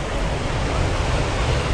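Ocean surf at Hyams Beach in Jervis Bay, a dense, steady roar of breaking waves mixed with wind buffeting the microphone, loud and continuous without voices.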